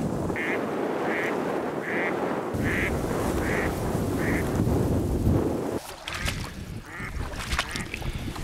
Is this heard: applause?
no